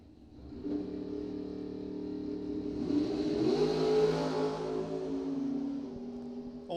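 At a drag race, a Chevy II car and a dragster rev and accelerate, engine roar building into a loud rising sweep that peaks midway and then holds at a distance.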